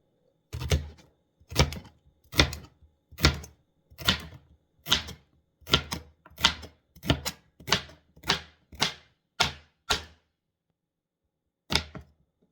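Knife chopping celery on a cutting board for ABC soup, about fourteen crisp, evenly spaced cuts, close and clear, then a pause before one last chop.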